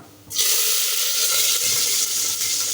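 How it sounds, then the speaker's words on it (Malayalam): Mustard seeds splutter in hot coconut oil in a pan, a dense, steady sizzling hiss that starts abruptly after a brief quiet moment and keeps going, close and fairly loud, with no talking. "കടുക് പൊട്ടി വരയ്ക്കാം"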